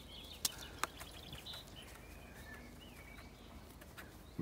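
Birds call and coo in a back garden, a couple of sharp chirps early on followed by soft scattered calls and warbling phrases, faint and moderately distant over low ambient noise.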